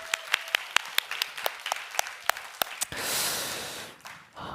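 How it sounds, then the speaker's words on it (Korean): Korean church congregation at Sunday worship: a few sharp, rhythmic claps at first, then a burst of broad applause that swells and fades. "서로를 위해서 우리가 또 박수를 한번 나눴으면 좋겠어요. 승리의 박수."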